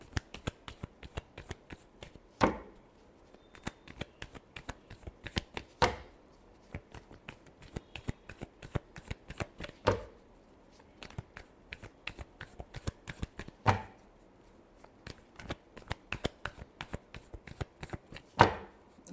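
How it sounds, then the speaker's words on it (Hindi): Tarot cards are shuffled by hand in rapid riffling bursts and soft slaps, repeating in quick clusters with louder snaps every few seconds, close and otherwise quiet. "Last shuffle."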